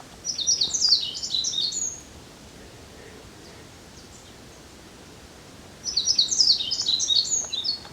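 A yellow-throated bunting (Emberiza elegans) sings two bright, chirping phrases several seconds apart on a rainy-season mountain hike, with soft rustling rain noise filling the gap between them.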